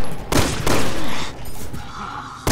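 Gunfire while shooting zombies in Resident Evil 6: a few loud shots crack out in quick succession over game background noise, then a final sharp shot at the end.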